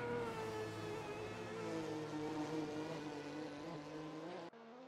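Group C race cars in a sim racing game on the Bikernieki high-speed circuit, a steady loud engine drone with layered harmonic tones, holding even for several seconds before cutting off abruptly near the end.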